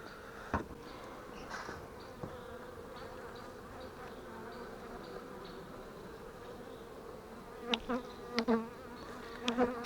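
Honeybees buzz steadily around the hive of an apiary abandoned for two years, a close, continuous hum with a few sharper passes of individual bees nearby toward the end.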